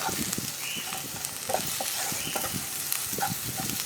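Chili powder and spice powders frying in oil while being stirred, a steady close sizzle with soft scraping strokes running throughout, no voices.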